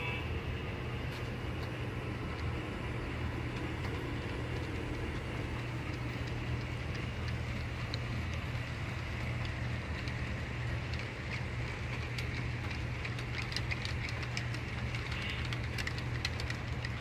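A local railway switcher locomotive idles and rumbles as it moves loaded wood chip cars at Midway Yard, a steady low engine drone with faint clanks and hiss, unbroken and without voices.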